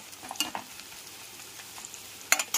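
Chopped onions fry toward light brown in a pan for a chicken korma, giving a soft steady sizzle broken by a few sharp spatula stirs and scrapes near the start and near the end, with no voices.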